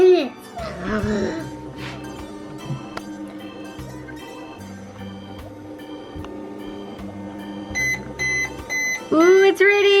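A toy pizza cooking machine hums along with a steady tonal drone and mechanical pulsing, then gives a string of short electronic beeps and a little jingle, while a voice speaks excitedly over it at the start.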